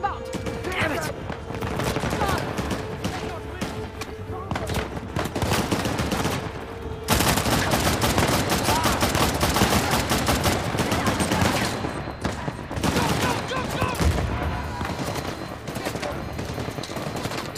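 Sustained gunfire in the video game Uncharted: The Lost Legacy, rapid bursts and fusillades of shots crackling almost without pause, loud and dense throughout with a brief lull midway before the firing resumes even heavier.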